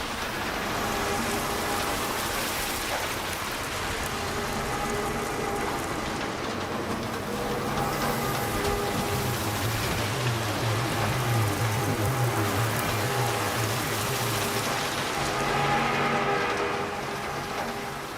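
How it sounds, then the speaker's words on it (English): Water drops from a fire sprinkler splash and patter across the floor and other surfaces aboard a capital ship in a video game, forming a steady, dense rain-like wash with a low rumble underneath, continuous throughout. "here on the floor is an auxiliary sound that is the sound of the water drops splashing and hitting other surfaces."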